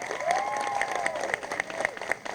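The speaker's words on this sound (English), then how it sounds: "Round of applause for these students." An audience claps and cheers for students at a school moving-on ceremony, moderately soft applause with scattered individual claps and voices rising over it.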